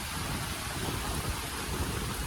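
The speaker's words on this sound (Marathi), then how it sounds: "एकदम तुफान आलं आहे, एकदम जोरात आला आहे पाऊस" Heavy rain pours down steadily in a dense, unbroken roar with a low rumble underneath and no voices.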